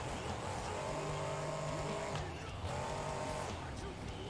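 Monster truck engine in BeamNG.drive roaring hard under throttle, a loud continuous racing drone with wavering pitch throughout, mixed with tire and landing noise.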